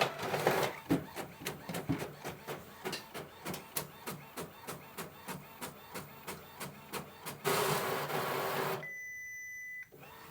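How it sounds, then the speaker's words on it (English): An Epson WF-7820 inkjet printer runs a print job with a long train of evenly spaced mechanical clacks as the page feeds. A louder whirring stretch follows, then a quieter motor hum and a faint tone. "press the print button."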